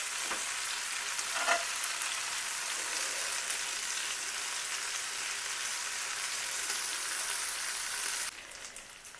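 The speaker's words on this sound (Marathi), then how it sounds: "सगळे शालो फ्राय करून घ्यायचे." Mutton chops shallow-fry in a pan with a steady, dense sizzle and crackle, close and continuous, plus a couple of brief stirring clicks, before the sound drops off abruptly at the end.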